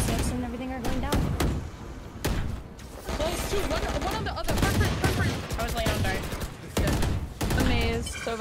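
Gunfire in a Valorant match on the Icebox map: bursts of shots and sharp cracks come in rapid clusters, loud and close, with players talking over the action throughout.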